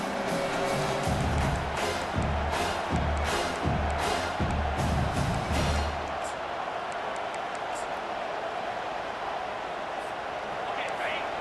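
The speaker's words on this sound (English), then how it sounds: "Listen to this crowd just shaking the girders of this place, trying to help their defense." A big football stadium crowd roars for its defense during a Washington versus LSU game, a dense, far-off wall of cheering that swells and pulses beneath a commentator's voice before settling into a steady rumble.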